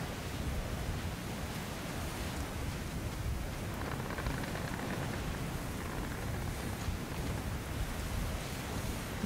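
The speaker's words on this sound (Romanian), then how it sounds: "O plouă, o plouă radioactivă trebuie să fie." Steady radioactive rain in Metro Last Light pours without a break, a dense even hiss with a faint rumble beneath and no voices.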